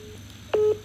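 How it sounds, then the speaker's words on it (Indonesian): A single short telephone dialing tone beeps loudly and cleanly, lasting about a fifth of a second over a quiet background hum. "Sampeyan telepon nek mau Febri"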